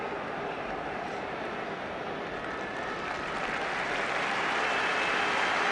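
A football crowd at Wembley, at the FA Trophy final, applauds an injured player being carried off. The roar of clapping is a steady, dense wash that grows slightly louder over several seconds.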